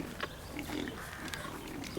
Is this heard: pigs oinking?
yes